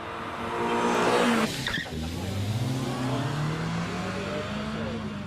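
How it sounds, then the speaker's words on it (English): A Suzuki Swift Sport hot hatch launches off the start line at the Prescott hillclimb, its engine revving hard with a brief tyre squeal, then pulling away as a rising engine note fading into the distance. "And off the line comes the little Suzuki Swift Sport."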